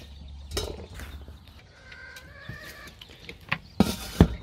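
Farm chickens clucking among feeding animals, giving short scattered clucks and calls at moderate distance, with a few louder bursts and knocks near the end and no speech.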